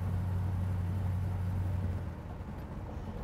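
A 1969 Chevrolet El Camino engine downshifting, heard as a steady low rumble that eases slightly partway through, close and without speech.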